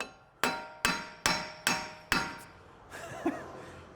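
Hammer gives five sharp, evenly spaced taps on the wheel hub bolts of a Toyota Auris during wheel bearing work, each ringing briefly. A softer metallic knock and faint clatter follow.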